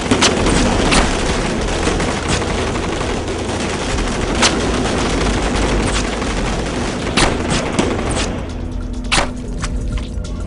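Loud, rapid gunfire from a Hollywood horror film (Warlock) rattles on through a dense bed of repeated shots and bursts, with sharper single cracks standing out and a thinner stretch of shots near the end.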